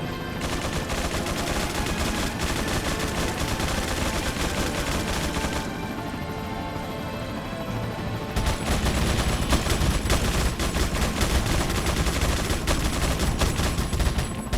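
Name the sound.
minigun gunfire in video game Resident Evil 4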